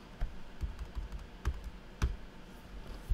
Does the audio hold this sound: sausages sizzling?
no